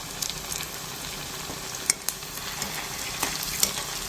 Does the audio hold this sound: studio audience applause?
no